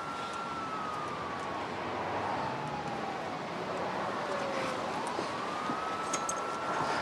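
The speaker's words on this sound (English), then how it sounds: "That'll be the ambulance." An ambulance siren wails in slow rising and falling sweeps at a moderate distance, its tone drifting steadily over a dense wash of background noise, with no speech.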